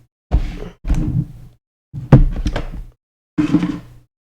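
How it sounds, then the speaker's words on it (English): A door being shut indoors, heard as several separate dull thumps and rustling bumps in four bursts, close and fairly loud, with no talking. "I just have to shut the door"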